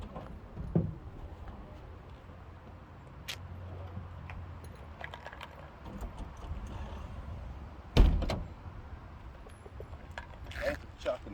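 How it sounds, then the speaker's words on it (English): A school bus door swings shut with a single solid thud, set against quiet background rattles and faint mechanical clicks in an otherwise hushed setting. "Closing the door behind you"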